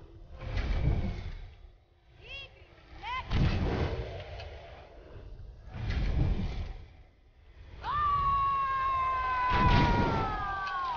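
Fire arrows are lit and shot in the video game Far Cry Primal, with repeated loud bursts of whooshing flame and impacts, plus a sustained ringing tone near the end, and no talking.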